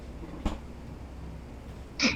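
One person sneezes once, sharply and close by, near the end during Valorant gameplay. A soft thump comes earlier, with quiet background noise in between.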